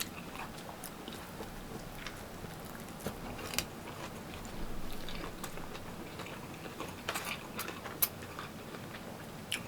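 A single bite into a shrimp taco gives soft, close crunching and chewing sounds, quiet and intermittent against a low background murmur.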